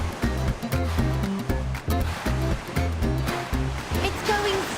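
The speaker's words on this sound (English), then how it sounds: "That's the sound of the dried pasta zooming down the helter-skelter into the bags below." A rushing, rattling stream of dried pasta pouring down a spiral tube into bags below in a factory, as a dense, continuous clatter with a steady pulsing machine rhythm underneath.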